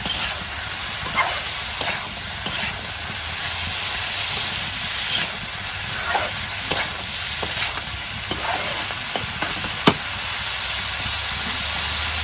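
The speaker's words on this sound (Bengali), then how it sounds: "হলুদের গুঁড়া, ভালো করে আমি মশলা করে ভেজে দিই।" Tilapia fish and spices with salt and turmeric fry in a pan in a village kitchen, a loud continuous sizzle with repeated scraping stirs and one sharp clack near the end, no voices.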